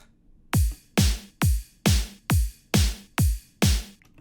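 Eight punchy electronic kicks with snappy tops hit in an even, steady rhythm, each with a fast-decaying thump and no other instruments.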